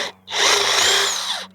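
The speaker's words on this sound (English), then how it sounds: "run that one lag bolt in this end of this little post" A power drill drives a lag bolt into a small wooden fence post, one short, close whirring burst of just over a second that strains slightly as the bolt seats.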